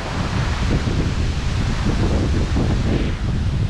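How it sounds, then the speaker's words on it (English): Steady wind roars and buffets across a microphone at a reservoir during a redfin fishing outing, a constant broadband rush with gusty swells and no voices. "Oh, this wind, come on."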